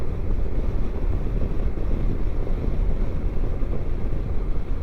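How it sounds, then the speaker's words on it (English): Steady wind buffeting the microphone during a Sunday ride, a loud constant low roar that fills the whole stretch with no speech over it. "getting a little windy."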